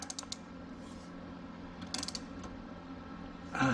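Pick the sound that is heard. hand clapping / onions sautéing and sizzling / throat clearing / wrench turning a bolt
wrench turning a bolt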